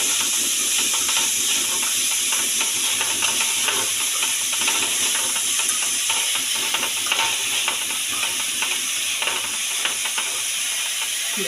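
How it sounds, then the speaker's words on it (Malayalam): Wheat rava upma with salt being stirred in a pan, a continuous close sizzle with rapid irregular scraping and clicking of the spoon throughout, no voices. "നമുക്ക് ഇതിലേക്ക് കുറച്ച് ഉപ്പ് ഉപ്പിട്ട് നന്നായിട്ട് ഇളക്കി തരണം"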